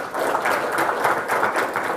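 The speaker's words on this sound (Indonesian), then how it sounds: "tepuk tangan untuk kalian semua" Audience applause at a speech event, a dense, steady wash of many hands clapping that holds evenly throughout, fairly loud and close, with no voices above it.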